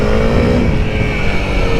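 Steady, loud engine drone of a Honda CRF300L dual-sport motorcycle being ridden, holding an even throttle with a continuous rumble and wind noise throughout and no talking.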